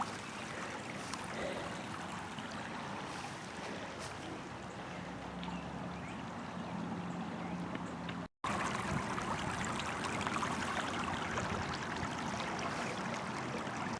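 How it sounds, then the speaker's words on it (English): Creek water flowing steadily outdoors in spring, a soft continuous rushing and trickling wash that stays faint and even throughout, with no voices over it. "And now we'll take a look down here at the creek."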